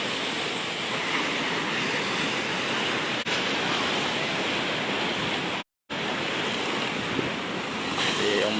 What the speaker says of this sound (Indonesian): Anda dapat lihat sendiri di layar kaca seperti apa gulungan ombak ini